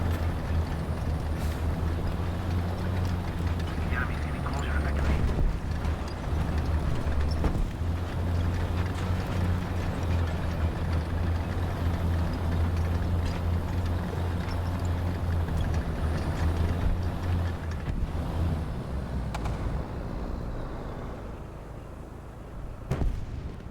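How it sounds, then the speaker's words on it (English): The engine of a vehicle in an indie Command and Conquer-style strategy game drones as a loud, continuous low rumble, overlaid with bursts of gunfire and explosive impacts throughout. "this vehicle sounds like it's got like two different engines at the same time"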